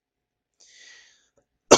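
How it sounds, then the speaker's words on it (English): A single sharp, loud cough bursts out near the end after a faint rustle, close to the mic, with no talk around it. "Excuse me while I cough up a lung here."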